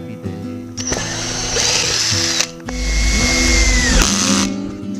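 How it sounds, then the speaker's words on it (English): A power drill whirs in repeated bursts, pre-drilling and driving 25mm wood screws through wood furring strips into metal. The motor whines and ratchets loud and close, with brief pauses between screws. "I'm pre-drilling holes and flush drilling them and then putting some screws through, and I'm using 25mm wood screws"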